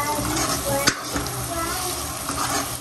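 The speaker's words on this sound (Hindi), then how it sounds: "तो यहाँ पे भुनने लगे हमारे टमाटर" Tomato puree frying with spice masala in a pan, a steady close sizzle with spoon scrapes and stirring knocks throughout, a faint voice briefly in the background.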